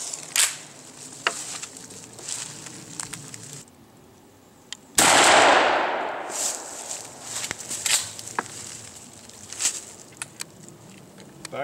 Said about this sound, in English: We're going to go ahead and shoot those first.